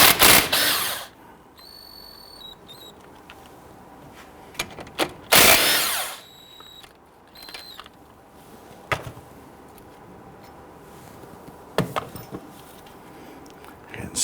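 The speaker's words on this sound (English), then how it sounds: "Use a 17mm socket to loosen and remove our slider pins." A power tool with a 17mm socket loosens the caliper slider pins on a 2011-2017 Nissan Quest, giving a few short, loud bursts of impact-style rattling separated by quiet pauses and faint clanks.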